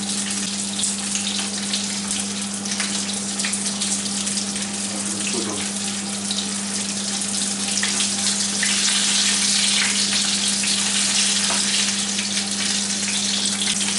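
Burbot pieces in batter frying in a pan, giving a loud, steady, close sizzle that runs without a break and has no talk over it.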